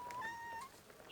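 A pet cat meowing indoors, a single drawn-out meow with a falling then rising pitch, close and fairly soft, with no talk over it.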